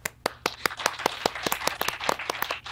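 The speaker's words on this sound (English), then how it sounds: "Big round of applause for Kirsten, everybody." A small audience at a startup meetup in Paris claps in a short burst of distinct, sharp hand claps that stay fairly sparse and close, with no talking.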